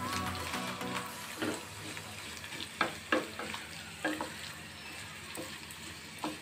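Coconut pieces frying in ghee in a pan, a steady close bubbling sizzle throughout with occasional scrapes and stirring knocks.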